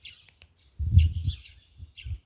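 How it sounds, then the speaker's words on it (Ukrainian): Birds chirp and call outdoors at a country dacha, short bright tweets scattered over a quiet background, with a brief low rustle or thump partway through. "Вже всі птички зеленчать, у мене аж голова обертом іде"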